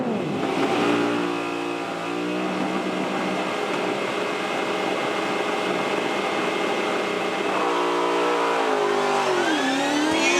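V8 Supercars race cars roar loudly and continuously at a race start, revving through gear changes with rising and falling pitch and some wheel spin; no talking.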